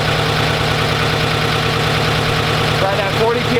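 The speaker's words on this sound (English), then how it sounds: "you can hear the lifters calming down" A Chevrolet Silverado Z71 auction truck engine idles with a steady, even rumble and a faint rhythmic ticking from lifters settling down, a person talking over it at close range.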